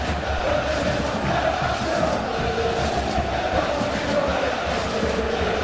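A large crowd roars steadily at a Champions League football match between Atletico Madrid and Lille, a dense, sustained wash of cheering with no clear breaks.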